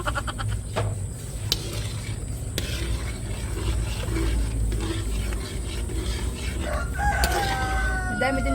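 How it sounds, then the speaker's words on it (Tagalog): A chicken in a Filipino outdoor cooking setting gives a strained, cracking crow near the end, the call breaking off as it climbs, over steady low rumbling background noise. "Napiyok yung manok."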